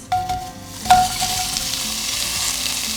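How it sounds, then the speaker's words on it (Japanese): Onions hit a hot, oil-free soup pot with a sudden loud sizzle that settles into steady frying hiss, with a metallic clink near the start. "玉ねぎが透き通るまで炒めていきます"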